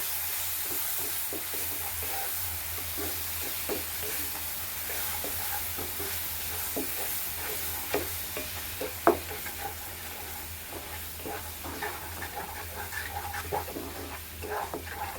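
Ingredients roasting with sugar in a pan for a sweet with ghee give a continuous soft sizzle and hiss, broken by scattered light clicks of a stirring spoon, close and fairly quiet with no voices.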